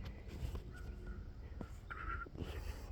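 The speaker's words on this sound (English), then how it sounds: "This one I hear a crow." Crows caw in a small park with a pond, giving a few short, harsh calls at moderate distance over a quiet outdoor background with faint rustling.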